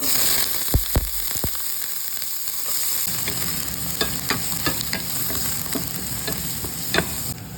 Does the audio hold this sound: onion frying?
yes